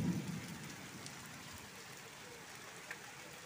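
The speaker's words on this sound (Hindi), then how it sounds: "जाजपुर जिले में कुआ पत्थर पड़ुछि देखंतु केते सारा वर्षा होउछि" Hail with heavy rain in a thunderstorm in Jajpur district, a steady dense hiss of falling water and pellets with a muffled thud at the start and occasional faint ticks, no clear talk.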